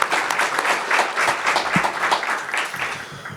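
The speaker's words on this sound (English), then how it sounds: "let's give them a round of applause for thanking them for their service." Luncheon audience at a Pasco Chamber of Commerce gathering applauds the board of directors, a dense, steady wash of many hands clapping close by with no talk over it.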